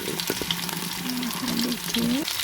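Vegetables fry in a pot of leftover oil previously used for fish, giving a steady close sizzle with a few brief tonal squeaks from stirring, and no talk over it.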